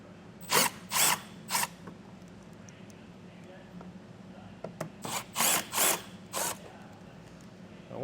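A power tool drives out T15 screws holding a 2024 Chevrolet Silverado 1500 bumper to the wheel well liner, with short whirring bursts in two clusters and quiet pauses between them, close by.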